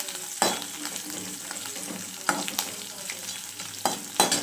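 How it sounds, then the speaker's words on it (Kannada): Green chillies fry in a pan for egg bhurji, giving a continuous soft sizzle broken by several sharp scraping clatters of a spatula stirring against the pan. "ಹಸಿರು ಮೆಣಸಿನ್ಕಾಯಿ ಹಾಕ್ಕೊಂಡು ಫ್ರೈ ಮಾಡ್ಕೊತಾ ಇದ್ದೀನಿ."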